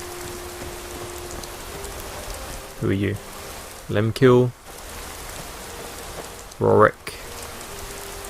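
Steady rain pours down in Skyrim, a dense continuous hiss running through the whole stretch while a few brief voices speak over it.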